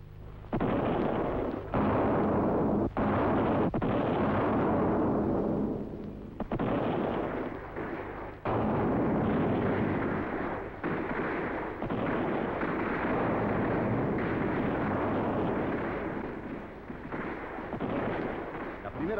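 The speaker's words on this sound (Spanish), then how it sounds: "entra en acción la artillería que castiga violentamente las posiciones enemigas" Bolivian Army artillery pounding enemy positions in a 1961 hill assault, a sustained roar of heavy booming blasts with brief gaps, loud and continuous throughout.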